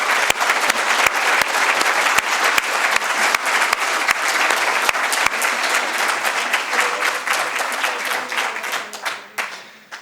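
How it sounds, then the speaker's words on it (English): Sustained audience applause at a university conference closing session, dense hand clapping filling the room for several seconds before thinning and fading out. "I want to ask a big round of applause for the whole University of the Basque team"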